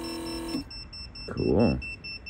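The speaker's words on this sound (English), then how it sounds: "It's quiet too, because it's a rotary style pump." A rotary vacuum pump in an electric conversion of a 1975 Volvo 164 gives a brief low electric hum that winds down and stops after half a second, followed by faint high tones and a short voiced sound.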